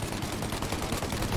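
Rapid machine-gun fire in the Mafia: Definitive Edition video game, a steady loud burst of shots filling the whole moment without a break.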